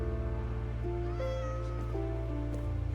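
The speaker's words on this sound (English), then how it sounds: "I think it is the cat." A house cat meowing in repeated tonal cries over a steady low droning hum, fairly close and clear, with no talk.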